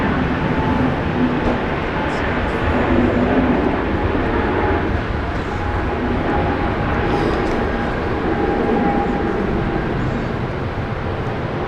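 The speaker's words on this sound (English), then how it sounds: "An A321 Neo rolling." Airbus A321neo in new livery rolling for takeoff at Brisbane International Airport: a sustained heavy engine roar with low rumble and a faint steady whine, loud and unbroken, with occasional faint radio chatter beneath.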